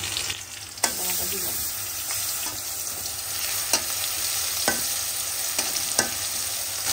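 Ridge gourd (dhundul) frying in oil with garlic paste, turmeric, chili powder and salt: a steady loud sizzle with scattered sharp clicks of a spatula stirring the pan, no voices.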